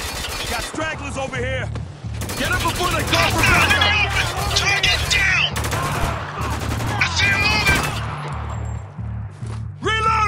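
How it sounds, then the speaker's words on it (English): Heavy video game gunfire in sustained, dense bursts fills nearly the whole stretch, with near automatic volleys, sharp cracks and shattering impacts, and voices talking underneath throughout. "Man, we're taking some heavy fire here!"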